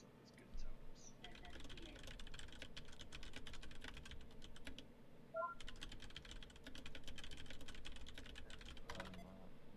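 A computer keyboard is typed on in quick bursts of close, crisp key clicks, broken by short pauses, with a few brief electronic beeps partway through.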